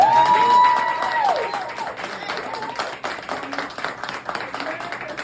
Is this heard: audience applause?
yes